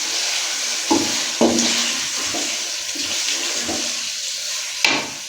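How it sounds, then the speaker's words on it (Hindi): Bell peppers and potatoes fry in a pan with a steady hiss and sizzle, and a few soft knocks of stirring come through at intervals. "शिमला मिर्च को हम तकरीबन इसमें 2 से 3 मिनट तक हम इसको भूनेंगे"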